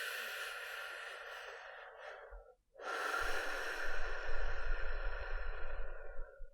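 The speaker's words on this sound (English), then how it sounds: "Take a deep breath." One long deep breath taken close to the microphone during a yoga session: a steady airy inhale, a brief pause, then a fuller, louder exhale that carries to the end.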